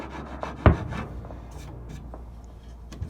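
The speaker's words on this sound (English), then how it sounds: "Just a little bit of sanding and that'll be good as new." Light sanding of a wooden buffet table under repair, with soft rubbing strokes and one sharp knock near the start, followed by a quiet rasping background.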